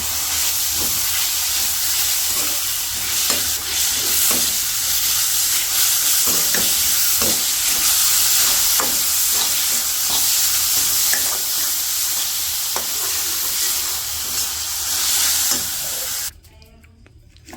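Gourd leaves frying in hot oil with garlic, onion and green chili, a loud, continuous close sizzle with occasional stirring scrapes, cutting off abruptly near the end; no voices.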